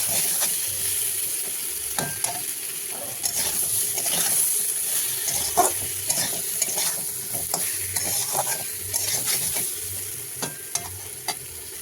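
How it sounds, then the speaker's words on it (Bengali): Masala with turmeric, chilli powder and salt fries in oil for a fish curry with potato and eggplant, as a spoon scrapes and stirs in repeated sharp strokes over a constant low sizzle. "মশলাটা ভালো মতো কষিয়ে নেব।"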